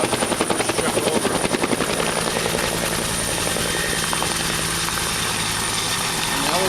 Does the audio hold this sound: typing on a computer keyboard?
no